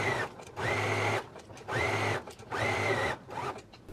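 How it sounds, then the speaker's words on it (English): A sewing machine stitches along the outer edge of a garment piece in three sustained runs, each about a second long with brief pauses between, steady mechanical whirring close up with no talk. "now you can take it to the sewing machine and you can stitch along this outer edge right here"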